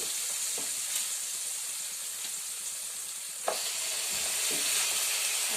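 Chicken pieces sizzle and fry steadily in hot oil in a pot for chicken stew, a continuous close hiss with a few stirring clatters and sharper crackles throughout.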